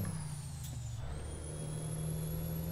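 A truck in American Truck Simulator idles with a low, steady engine rumble and a faint high whine. A brief hiss near the start could be an air brake or a gear change.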